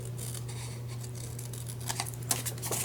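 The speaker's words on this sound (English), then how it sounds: "the other thing I'm going to do is just trim this nicely" Scissors trim the edge of a papercraft project, giving a few quick soft snips near the end over a low steady hum, close and fairly quiet with no talking.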